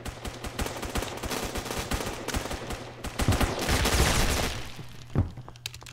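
Sniper and other gunfire in a Roblox game crackles in rapid bursts of sharp shots, a dense volley building near the middle before a few isolated cracks trail off, all fairly quiet.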